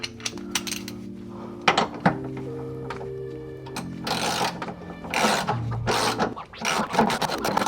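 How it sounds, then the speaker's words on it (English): A hand ratchet runs a bolt into the rear subframe of a Subaru WRX STI, giving close, rapid metallic clicking in bursts with pauses and clanks between strokes. "I'm just going to use a ratchet and just bring it in all the way."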